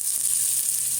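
Garlic, onion and ginger are sautéed in a pan for Filipino chicken adobo, making a steady, bright sizzle that stays even and close.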